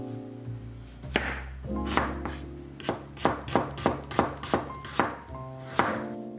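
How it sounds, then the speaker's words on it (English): A knife cuts turnip and then roughly chops its leaves on a board for a Japanese dinner dish. First come a few spaced cuts, then a quicker run of crisp, close taps, with no talk. "Thinly slice the turnip and roughly chop the leaf part."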